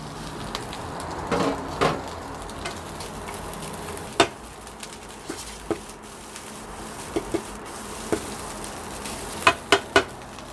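Fried egg and rice stir-fried in a pan for Din Tai Fung-style fried rice, giving a steady soft sizzle with scattered sharp clicks and taps of a utensil against the pan, loudest near the end.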